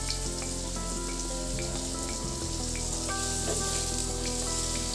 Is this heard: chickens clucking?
no